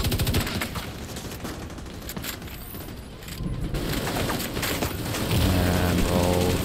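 A minigun in The Division 2 fires in long, dense rattling bursts, loud and continuous with overlapping shots and mechanical whirring. A heavier sustained volley swells near the end, and no talk is heard.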